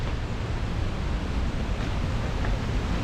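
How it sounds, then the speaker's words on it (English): A Scottish waterfall roars as a dense, steady wash of broadband noise, loud and unbroken, with no voices over it. "You can hear the roar from the waterfall."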